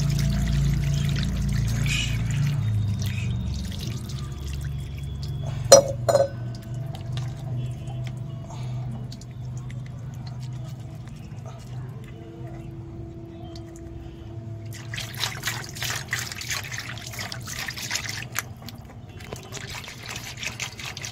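Water is poured over a Shiva idol during a puja, a soft continuous trickle and pour with a couple of sharp knocks partway through, then louder splashing toward the end.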